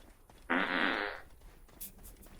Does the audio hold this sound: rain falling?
no